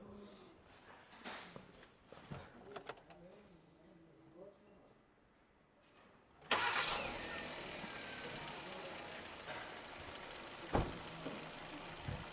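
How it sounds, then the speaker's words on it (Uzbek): After quiet murmuring talk, a car engine abruptly starts and settles into a steady, fairly loud running hum close by. "Yurgizib qo'ysangiz motorni bir ovozdan eshitamiz"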